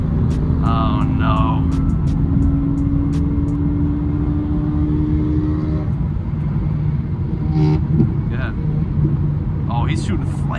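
A Mustang revving hard and shooting exhaust flames at night beside a Supra, its loud, steady engine rumble heard close up throughout, with excited voices talking over it.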